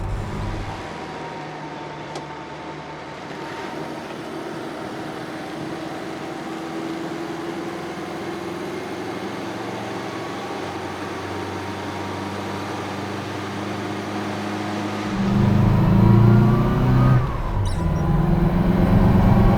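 BMC 1100 saloon driving at steady speed, a continuous low engine drone with road and wind noise, rising louder near the end as the car accelerates harder; no talking.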